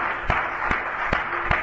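A church congregation claps hands together in a steady rhythm, four sharp, evenly spaced claps over a constant background hum.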